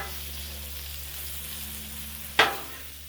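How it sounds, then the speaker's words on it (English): Beef stir fry sizzles steadily on a Blackstone griddle, with one sharp scrape of a spatula against the flat-top partway through and a low hum of the burner underneath. "Give this another stir here."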